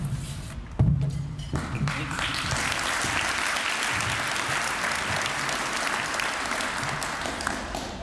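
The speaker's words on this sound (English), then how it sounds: "I assure you that applause is very premature" A breakfast audience at a donor scholarship event breaks into steady applause after a thump near the start, clapping holding even and full throughout.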